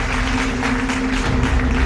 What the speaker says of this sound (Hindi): चाहूँगा जोरदार तालियों के साथ राजीव जी का भी स्वागत